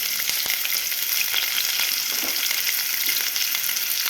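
Chopped onion, green chili and curry leaves fry in hot oil for an eggplant and tomato curry, a loud, continuous sizzle heard close up with faint stirring, and no one talking.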